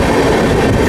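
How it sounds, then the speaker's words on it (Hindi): Bilaspur–Titlagarh passenger train hauled by a Kavach-fitted WAP7 locomotive, heard as a loud, close, continuous rolling roar with no break and no voices. "बिलासपुर टिटलागढ़ पैसेंजर भिलाई के 39450 कवच फिटेड WAP7 लोकोमोटिव के साथ"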